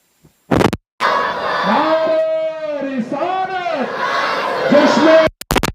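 A crowd at an Eid Milad-un-Nabi gathering in a mosque shouting a response to a religious slogan: a brief voice, then several seconds of loud massed chanting voices, ending abruptly.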